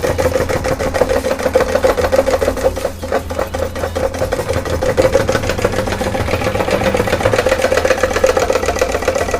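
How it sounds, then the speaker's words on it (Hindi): A homemade Stirling engine runs fast and steadily, a loud continuous mechanical whir with rapid, even ticking and no pauses. "जैसा कि आप देख सकते हैं वीडियो में चल रहा है, काफ़ी खतरनाक तेज़ी से कमाल का ये इंजन बना है"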